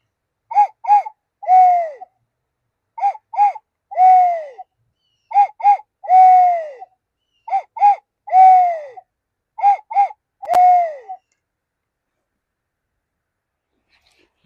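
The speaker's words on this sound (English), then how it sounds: "there's nothing quite so soothing as the wind in the trees and the birds calling" Birds call outdoors, a repeating three-note cooing phrase (two short notes, then a longer falling one) sounding five times at a steady pace, fairly close and clear. No wind noise stands out.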